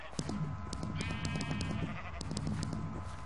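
Several sheep bleating in the Mixed Arcade game, overlapping wavering cries mixed with game effects, fairly quiet and continuous.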